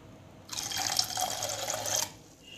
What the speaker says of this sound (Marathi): माठातलं थंडगार पाणी टाकून घ्यायचं आहे।